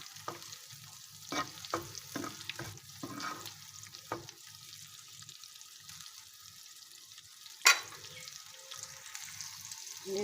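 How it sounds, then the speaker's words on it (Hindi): Egg omelette with onion and tomato frying in a pan, giving a faint low sizzle broken by several soft stirring taps and one sharp clink partway through, with no talking. "और हम इसको अच्छे से फ्राई कर लेंगे, मिक्स कर लेंगे।"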